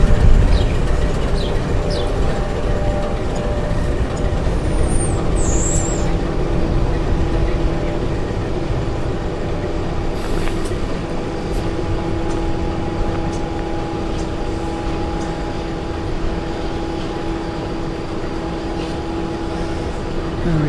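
A passenger train on the Overland service from Adelaide to Melbourne stands at Murray Bridge station, giving off a steady, even rumble and hum with faint tonal whine that continues throughout, with no voices.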